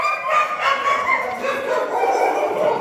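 Several dogs barking nonstop inside a barn, a dense, loud overlapping chorus with no pauses.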